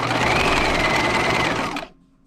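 A sewing machine runs steadily, stitching around the layers of a dress pocket, a close, loud, continuous mechanical whir that stops abruptly near the end.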